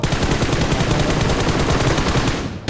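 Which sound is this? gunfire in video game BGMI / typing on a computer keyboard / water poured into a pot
gunfire in video game BGMI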